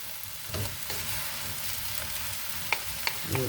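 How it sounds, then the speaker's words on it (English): Vegan broccoli and Beyond steak stir fry being stirred and tossed in a pan, a steady close sizzle with scraping utensil clatters and a few sharp clinks near the end. "toss that baby right in there. Toss that baby up. Oh yeah. Mix this all up."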